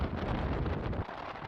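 Strong wind buffets the microphone on an open cruise ship deck aboard the Carnival Miracle, a steady low roar with no voices.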